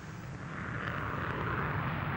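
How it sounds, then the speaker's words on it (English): Roar of an F-22 fighter jet, a steady broadband engine rush that swells slightly louder and holds, with no voices present. "this is the F-15's replacement, the F-22"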